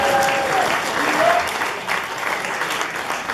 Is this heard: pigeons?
no